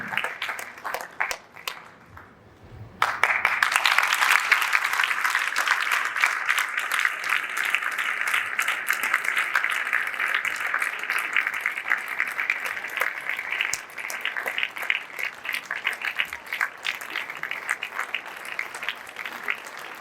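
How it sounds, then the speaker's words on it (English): A school assembly crowd breaks into sustained applause for newly elected student prefects, starting after a few seconds of near quiet and continuing dense and steady throughout. "A round of applause, please,"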